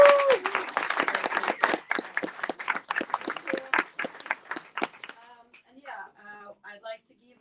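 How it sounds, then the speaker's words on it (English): Audience applause for the Crypto Mondays team at a talk event, a crowd clapping that starts loud and gradually thins and fades, then a voice begins speaking. "can we please give a round of applause for Crypto Mondays team?"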